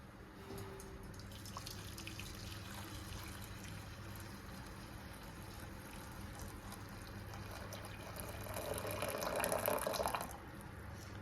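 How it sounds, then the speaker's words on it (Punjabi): Water runs from a tap into a sink with splashing and dripping as a pot is rinsed, steady and fairly quiet, briefly louder near the end. "ਹੁਣ ਆਪਾਂ ਇਸੇ ਬਰਤਨ ਨੂੰ ਧੋ ਕੇ ਸਾਫ਼ ਕਰ ਲੈਨੇ"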